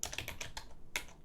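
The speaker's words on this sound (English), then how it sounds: "It's always a lot of typing" Quick bursts of keystrokes on a computer keyboard, a rapid irregular run of clicks, then a short pause and a final tap, close and fairly quiet.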